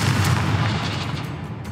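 Confringo spell blasts in Hogwarts Legacy boom in a dense, loud rumble of explosions that slowly fades over a couple of seconds, with no voices.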